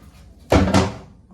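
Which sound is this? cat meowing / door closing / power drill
door closing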